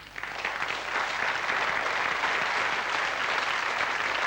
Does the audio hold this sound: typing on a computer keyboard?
no